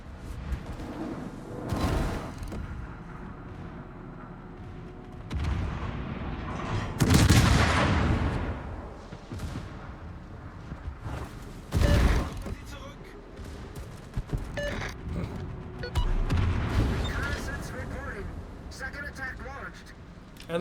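Naval guns on a warship fire at targets in a video game, heavy booms and volleys bursting repeatedly, with several louder blasts standing out over a steady game background.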